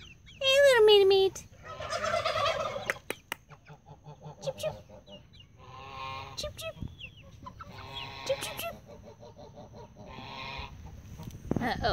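Turkeys gobble in loud bursts while meat chickens cluck and chatter around them on a farm, several calls overlapping close by with steady background noise.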